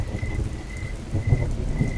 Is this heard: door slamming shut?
no